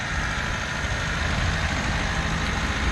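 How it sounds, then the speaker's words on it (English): A 2000 Honda Civic engine idles smoothly and steadily with a constant low rumble, close and unbroken throughout, with no voices. "This engine actually idling pretty good."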